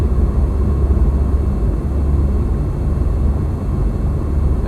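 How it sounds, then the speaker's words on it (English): A steady, loud engine drone and rolling rumble from an airplane taxiing down a runway in the X-Plane 11 flight simulator continue without a break, with no talk over it. "use brake to slow airplane to prepare for turn off runway"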